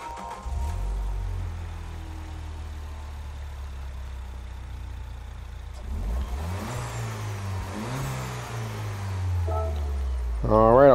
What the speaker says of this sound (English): we'll listen to the startup sound